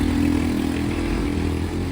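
A steady, rumbling motorcycle engine idles and revs continuously while driving through floodwater that has entered the exhaust, with a low churning undertone and faint clattering, close by and loud throughout.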